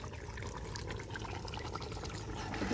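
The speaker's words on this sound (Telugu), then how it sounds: "మూత వేసినాక మళ్ళీ కొద్దిగా వాటర్ పోసుకోవాలి" Water pours steadily into a cooking pot at an outdoor meal for farm workers near a field, a continuous close splashing flow filling the whole short stretch with no talk.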